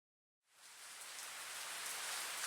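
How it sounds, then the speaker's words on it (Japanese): Rain in the visual novel game By Your Side starts abruptly after a moment of silence, then pours as a steady broadband hiss that keeps swelling slightly, heard alone with no voices. "また今日も雨かよ。"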